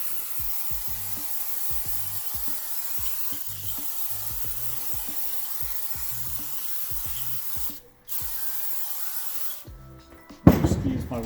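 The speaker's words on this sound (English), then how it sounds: "Okay, so we're gonna get some brake cleaner on here." Loud, continuous hiss of brake cleaner sprayed onto a tractor starter during cleaning, with faint rhythmic knocks beneath it, one brief break partway through, and a clatter of handling at the end.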